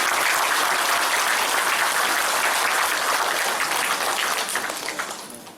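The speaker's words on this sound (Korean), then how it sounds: "여러분 그동안 수고하신 홍철식 위원장님께 뜨거운 박수 좀 부탁드립니다." Sustained, dense applause from an indoor audience at a regional community social security council gathering, honoring a retiring committee chairman; loud and steady throughout, tapering slightly at the end, with no talking over it.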